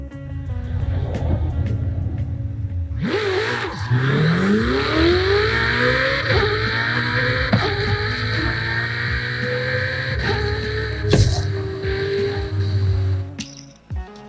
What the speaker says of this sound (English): So this is a race car, we have a racetrack.